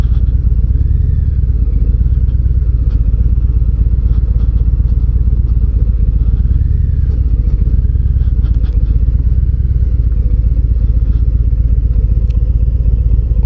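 A 2025 Harley-Davidson Breakout cruiser rolls over gravel, its steady, loud, low engine drone running throughout with faint crunching and clattering from the loose surface.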